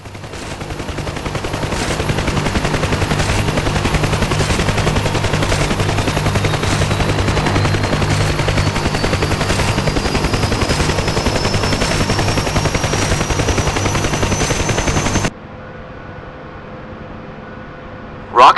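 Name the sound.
helicopter door gunners' machine guns firing in DCS World UH-1 Huey video game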